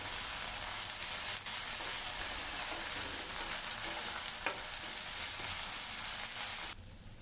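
Ginger garlic paste frying in a hot pan, a steady dense sizzle with occasional stirring scrapes, close and continuous before it suddenly drops away at the end.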